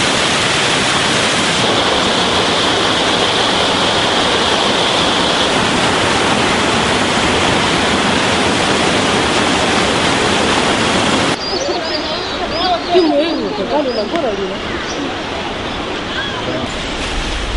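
Waterfall carrying a small reserve flow over the weir at the Kisiizi mini-grid hydro power site, a steady broadband rush of falling water that is loud and close; the sound thins and changes character partway through, with faint voices in the background.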